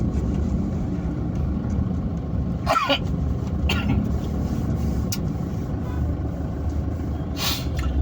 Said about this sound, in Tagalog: this is traffic Manila, Quezon City